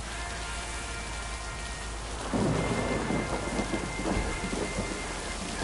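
Rain falls steadily in the game Lake, then a loud thunderclap from lightning breaks in and rolls on as a heavy rumble over the downpour.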